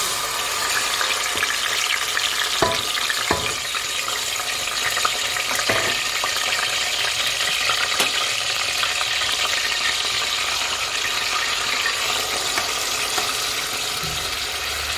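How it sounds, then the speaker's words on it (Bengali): Onion, ginger, garlic, star anise, cinnamon, black pepper and black cardamom sizzle together in a pan for beef liver bhuna, a steady dense crackle with a few sharper pops and scraping stirs, no talking. "মশলাটারে কষাই দিয়া পেঁয়াজ আদা রসুন সকলটা একলগে দিছি"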